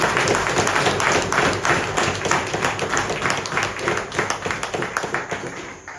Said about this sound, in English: Comrades, can we clap your hand for the...